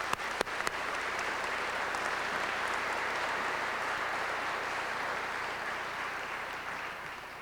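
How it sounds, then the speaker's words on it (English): An audience at a 2002 high school graduation ceremony applauds the graduating class, a dense, even wash of clapping that starts with a few sharp claps and carries on steadily throughout at moderate distance. "Let's give them a round of applause."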